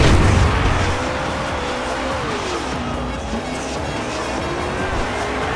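Race car engines roar continuously in Forza 2 during a race against a Nissan GTR where nitrous is allowed. The loud, close engine drone carries a shifting pitch and brief tire squeals.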